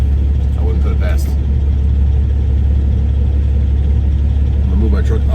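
A pickup truck idles with a deep, steady, loud rumble heard from inside the cab, unchanging through the whole stretch with a voice talking over it.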